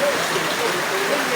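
Steady rain pours outside a house during a storm, a dense, even hiss of drops that stays unbroken and fairly loud throughout, with no clear voices.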